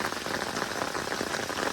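Rain falls steadily into a murky garden pond during a May thunderstorm in Norwich, pattering and bubbling on the water's surface in a dense, continuous hiss with no voices.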